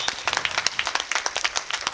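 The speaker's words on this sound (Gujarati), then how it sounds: "આપણે તાળીઓની કોઈ ખામી નહીં રહેવી જોઈએ" Brisk, dense applause from an audience at a religious gathering at a Mahadev temple, many hands clapping close and loud in a steady patter that runs without pause.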